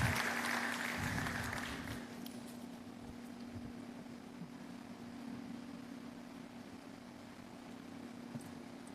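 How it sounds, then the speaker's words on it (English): An audience at an annual lecture gives a short burst of applause to welcome a spoken word performer. The clapping fades within about two seconds, leaving a steady low hum of room ventilation. "A round of applause for her, please."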